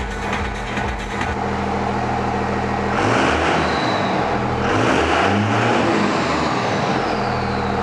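A car engine runs loud and steady close by at idle, with a broad rumbling drone that swells slightly midway, no talk over it.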